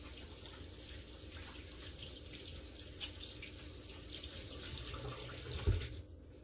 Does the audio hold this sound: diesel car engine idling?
no